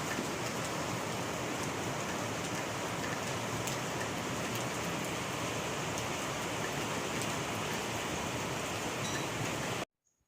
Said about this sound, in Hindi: देखिए कितनी जोर से अभी भी बारिश हो रही है।